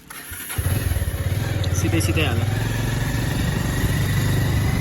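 Motorcycle engine starts with a brief crank, then settles into a loud, close, steady idle with a rhythmic throbbing putter; a voice speaks briefly over it.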